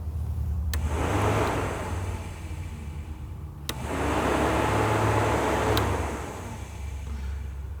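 Electric cooling fans on a 1960 Chevy Biscayne with an LS swap and aluminum radiator whir up, run steadily, and spin down as they are switched on and off twice, with sharp click transients at each switch.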